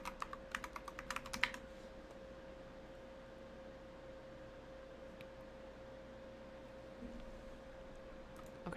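Brief burst of rapid clicking keystrokes on a computer keyboard at the start, then a quiet room with a steady electrical hum and no talking.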